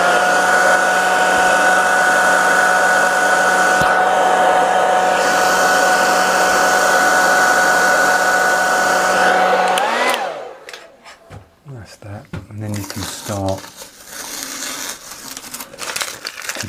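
A hair dryer blows with a loud, steady roar for about ten seconds, drying airbrushed paint on a gas tank, then switches off, leaving quieter crinkling and handling noises close by.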